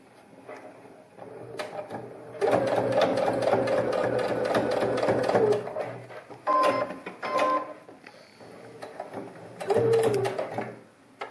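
A sewing machine stitches a pleated fabric children's face mask in bursts of rapid, steady mechanical chatter, with pauses, handling clicks and a short hum between runs, close and with no talking.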